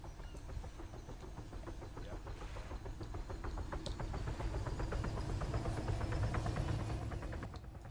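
A helicopter engine spooling up in a military game, a steady whine with a quickening rotor pulse that builds and grows louder over several seconds, with faint voices beneath.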